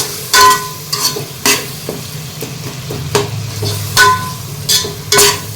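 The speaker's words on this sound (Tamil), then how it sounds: "இதையும் சேர்த்து நல்லா வதக்கிக்கோங்க. எண்ணெயிலேயே கொஞ்சம் தனி மிளகாத்தூள் போட்டிங்கன்னா கலர் இன்னும் கொஞ்சம் நல்லா இருக்கும்." Ingredients stirred and sautéing in hot oil with chili powder for chicken biryani, a steady sizzle broken by repeated sharp scraping strokes of a spoon against the pan, close and loud with no talking.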